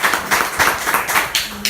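A church congregation claps during a Spanish-language sermon, a steady, rhythmic patter of many hands nearby with no voices over it.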